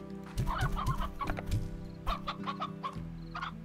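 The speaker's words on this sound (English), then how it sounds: "At the very least, we'll get some hens going." Hens in a pen in the video game Slime Rancher cluck in quick, close bursts, several short clucks and calls overlapping over a steady low game hum, with no talking.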